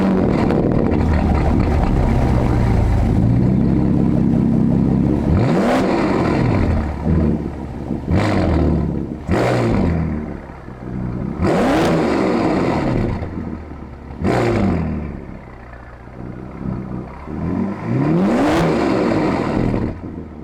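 A loud Mansory-modified Bentley Bentayga SUV engine with a throaty aftermarket exhaust starts and revs repeatedly, rising and falling in several sharp bursts between idling stretches.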